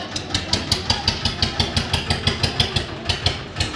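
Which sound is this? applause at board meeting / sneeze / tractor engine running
tractor engine running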